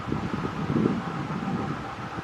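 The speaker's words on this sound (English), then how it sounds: "It's a bit windy." Wind blowing outdoors on a grey, rainy day in Taranaki, New Zealand, heard as a steady, fairly loud broadband rush with low buffeting gusts across the microphone, no talking.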